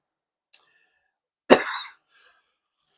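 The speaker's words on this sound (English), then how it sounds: "As you can see, I still have a little cough going here." A single sharp, harsh cough close to the microphone, preceded by a tiny throat click, then silence.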